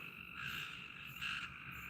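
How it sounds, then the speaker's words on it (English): Frogs croaking outdoors in the evening after a tornado, a steady, dense chorus of high trilling calls that swells in waves, with no talking over it. "Actually, I think those are frogs."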